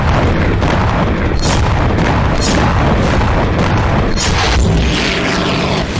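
Russian missile strikes explode on a Ukrainian airbase in a rapid series of loud, heavy booms and blasts, one after another with rumbling between them.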